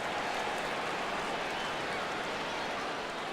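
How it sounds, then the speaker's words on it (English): A home crowd in the MLB The Show baseball video game gives a pitcher a sustained ovation during a Yankees versus Rangers game. The dense, even applause and cheering holds at one level from start to finish. "So he receives a nice ovation from this home crowd"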